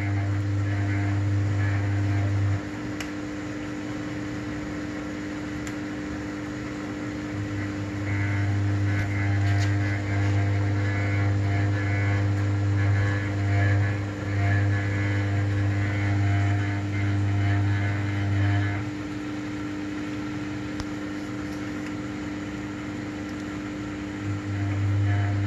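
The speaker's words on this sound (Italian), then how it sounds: "questo ronzio che si sente, che generalmente si sente solo a vasca vuota, non è motivo di preoccupazione, è una semplice vibrazione della lamiera." An Atlantic LF 454 TX washing machine drones with a steady low hum and sheet-metal vibration during an empty-drum rinse cycle, the buzzing swelling and fading in long stretches over a constant mechanical whir.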